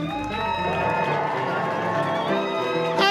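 A theatre audience at a live showreel evening cheers and applauds for the evening's musical director, broad steady crowd noise over music, ending in a brief louder swell.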